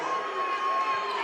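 Basketball crowd cheering behind the Panther bench at a high school boys game, a steady dense roar of many voices filling the gym without a break.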